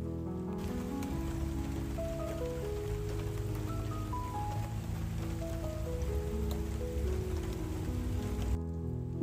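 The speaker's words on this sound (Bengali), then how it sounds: "এই বৃষ্টির জন্য এখন আর ওদিকটায় যেতে পারবো না" Steady, fairly quiet rain falls outside a house in Texas, a continuous soft hiss with a gentle stepped melody of music playing underneath.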